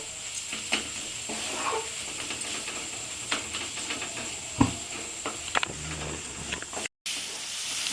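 Masala spices fry in oil with a steady soft hiss and sizzle, broken by occasional small pops and clicks of a spoon stirring, close by and without talk.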